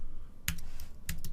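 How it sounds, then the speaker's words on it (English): Typing on a computer keyboard while writing web code, heard as two short clusters of sharp clicks separated by a quiet pause, close and clear with no talking. "I'm just typing it out."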